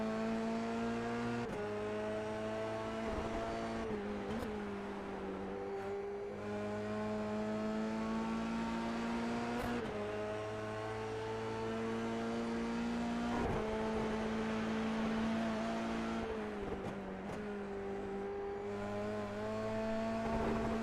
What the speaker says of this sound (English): The Dallara Formula 3 car certainly does sound good.